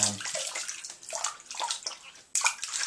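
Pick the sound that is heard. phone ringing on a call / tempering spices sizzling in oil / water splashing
water splashing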